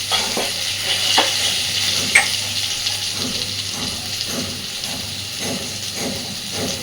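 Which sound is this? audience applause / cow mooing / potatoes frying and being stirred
potatoes frying and being stirred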